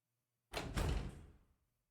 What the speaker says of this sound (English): The door closes with a click.